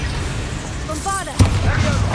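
Bombarda explosion spell in Hogwarts Legacy lands as a single sharp, punchy blast midway through, followed by a deep booming rumble over steady ambient roar, with a brief warbling magical tone just before the hit.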